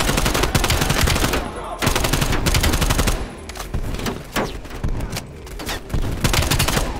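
Rapid, loud gunfire from a hand cannon in Call of Duty: Black Ops Cold War, dense bursts of overlapping shots and booms with brief pauses between volleys, up close and relentless.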